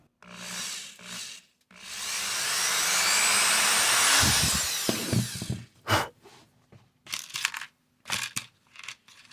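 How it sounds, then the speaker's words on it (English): A power drill with a 1/16-inch bit whirs into wood in a long, steady burst, drilling a small pilot hole on a Telecaster guitar build, followed by short bursts of scraping and handling noises. "Using a 1/16 of an inch drill bit."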